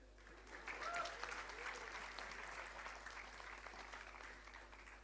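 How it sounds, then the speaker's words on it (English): Audience applause at a 2024 convocation ceremony, a sustained, even patter of many hands clapping in a large hall, fairly faint and heard from a distance, with a low hum underneath. "so we can clap again"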